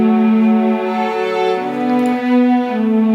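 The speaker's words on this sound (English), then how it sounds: "So this is where the strings come in" Sustained string parts, one lower and one tracing the chord progression, for a track: smooth, steady bowed tones holding a chord that shifts midway, close and full, with no voices.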